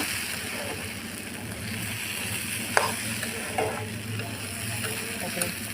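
Soaked lentils (dal) fry in a pan on a home stove, giving a steady low sizzle with faint stirring scrapes and a few brief clinks throughout.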